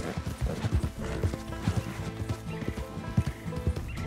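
In Red Dead Redemption 2, a donkey's hooves clip-clop in a steady, moderate walking rhythm, mixed into a dense, continuous game soundscape with no one speaking.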